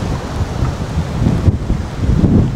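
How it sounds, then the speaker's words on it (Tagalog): Heavy rain pours down at Paete in a dense, loud, continuous rush, with low rumbling wind-like noise throughout and no voices. "Lakas ng ulan, grabe."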